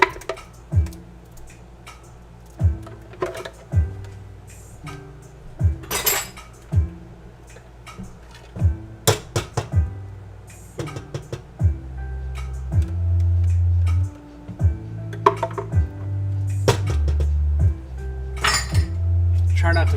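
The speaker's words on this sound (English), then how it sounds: "Dump the blended mixture in the pan." Blended vegan saag mixture dumped into a pan, with scattered clinks and knocks of utensils and cookware, a few sharper scrapes, and a steadier low hum building in the second half.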